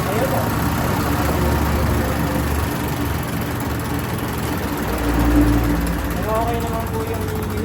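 A diesel engine idles after injection pump repair, a steady low rumble with a brief swell mid-way as people speak over it.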